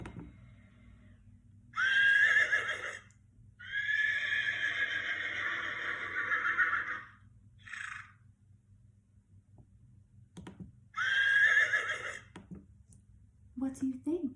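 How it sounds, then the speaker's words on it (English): A horse neighs and whinnies in several loud, drawn-out calls separated by pauses, with a short snort between them, in an otherwise quiet setting. "That is a horse."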